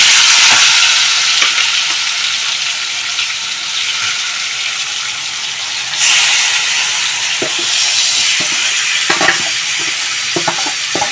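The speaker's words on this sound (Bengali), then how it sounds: "এখন ম্যারিনেট করা মাংসটা আমি ওই তেলের মধ্যে দিয়ে দেবো।" Marinated chicken frying in hot oil in a home kitchen, a loud steady sizzle and hiss with occasional stirring clicks and scrapes, a brief surge midway, no talk.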